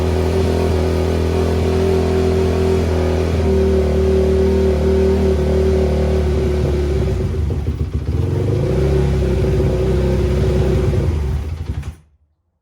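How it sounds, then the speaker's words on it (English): A motorcycle engine that only runs with the choke on idles loud and steady nearby, with a fluctuating rumble midway before it cuts out and falls silent near the end. "I will leave the choke on, fire it back up again"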